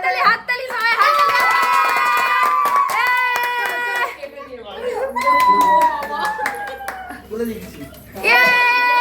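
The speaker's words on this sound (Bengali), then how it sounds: "হাততালি হাততালি সবাই হাততালি।" Guests at a child's third birthday celebration clap their hands in uneven bursts, the sharp claps close by and mixed with a voice and other people talking.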